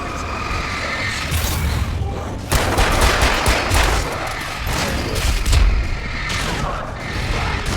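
Rapid, continuous gunfire from the video game Alan Wake, with dense bursts and booming shots running throughout at steady high loudness, and a few distant shouts mixed in.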